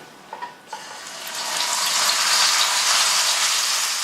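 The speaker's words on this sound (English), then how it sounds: "You need to sear this on medium heat for at least 10 minutes because you really want a nice crust on that meat" A bottom blade pot roast for Italian stracotta hits a hot pot after a few light clunks, and a loud, bright sizzle swells up and holds steady as the meat sears.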